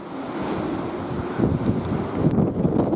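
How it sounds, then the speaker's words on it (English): Strong wind roars and buffets the microphone near a lighthouse in Greece, with surf crashing underneath in a steady, loud outdoor rumble. "It's quite windy today."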